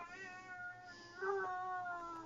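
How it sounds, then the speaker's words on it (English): A cat meows faintly in the background while being petted indoors, a drawn-out tonal cry that swells louder about halfway through and then fades. "can you hear him going "Meow" in the background?"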